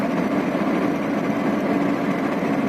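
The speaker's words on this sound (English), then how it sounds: "The engine sounds like it's knocking" The V6 engine of a 2003 Honda Accord runs with a knock, heard as a steady, loud, even drone with a faint fast rhythmic patter, limping along a highway.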